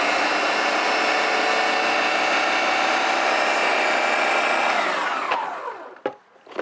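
Mixer grinder blending sweet puran filling, a loud steady whirring motor roar running continuously for about five seconds before spinning down and stopping, followed by a brief clunk.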